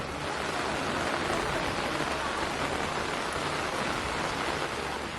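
Heavy rain falling steadily in Bihar, a dense, even hiss that fills the whole stretch at constant loudness with no break or other sound.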